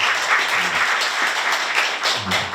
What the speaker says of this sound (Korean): 금속무료 김준영 사무총장님을 큰 박수로 맞이해 주시기 바랍니다